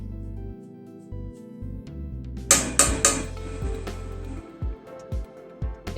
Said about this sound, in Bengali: একটু নাড়িয়ে দিলাম